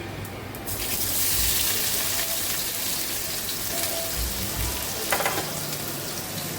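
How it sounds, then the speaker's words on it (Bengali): Chopped onion hitting hot oil in a pan after whole spices have been tempered, setting off a close, steady sizzle with a few brief clinks and scrapes, no voices. "এরপরে দিয়ে দেবো পেঁয়াজ কুচি"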